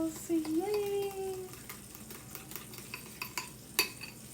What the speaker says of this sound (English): And then I'm stirring it up to get ready to cook the pancakes.